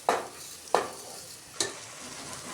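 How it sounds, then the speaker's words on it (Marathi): Washed Indrayani rice is sautéed with coriander in a pan for masala rice. A spatula gives three distinct scraping stirs over a soft, steady sizzle, close and otherwise quiet. "तांदूळ छान त्याच्यामध्ये परतून घेऊया"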